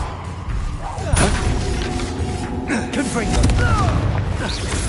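A Confringo fire spell explodes in the video game Hogwarts Legacy, a loud booming blast amid ongoing combat effects, thuds and game music, with a voice speaking over the battle.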